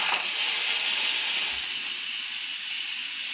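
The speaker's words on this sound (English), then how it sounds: "I'm taking all the pressure out" Steady loud hiss of steam escaping from a pressure cooker as its pressure is released after cooking red lentils for dal makhani, a continuous close rush with no break.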